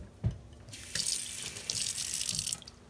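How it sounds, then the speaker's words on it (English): Tap water runs into a cooking pot while jjapaguri noodles are being made, a steady close splashing stream that starts with a brief knock and pours continuously for about two seconds before cutting off. "I'm putting a tiny bit more water."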